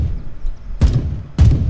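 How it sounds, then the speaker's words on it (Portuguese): Two short bursts from an M4A1 rifle in the shooter game Gray Zone Warfare, each a loud broadband crack with low thump, spaced about half a second apart over a quiet low background. "Vou dar um tiro, uma rajada ali pra vocês verem"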